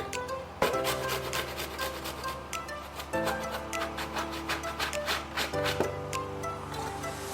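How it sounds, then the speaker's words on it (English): Garlic cloves grated on the small side of a hand grater for spicy crackers, steady rhythmic rasping strokes running throughout under louder background music. "So using the small size of your grater, you grate your garlic."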